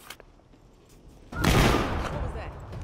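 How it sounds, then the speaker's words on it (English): Gunfire in the VR video game The Walking Dead: Saints & Sinners, a sudden loud burst of shooting after a quiet stretch, then sustained rattling noise that fades slightly. "Oh, I know they ain't shooting at me."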